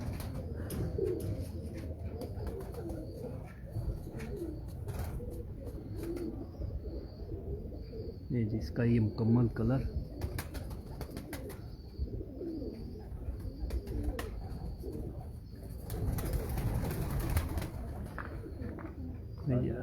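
Antique-coloured pigeons coo softly in a Karachi loft, low murmuring calls with occasional wing rustles, under a man's conversational speech.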